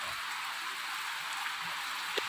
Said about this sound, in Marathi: बापरे कसलं वारं पाऊस.